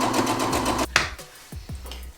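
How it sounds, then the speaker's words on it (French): A sewing machine stitches the finished seams of a small fabric pocket on a handmade plush toy, running in a steady whirring burst for about a second before stopping, followed by a few soft handling clicks. "je vais recoudre pour faire vraiment une poche bien nette"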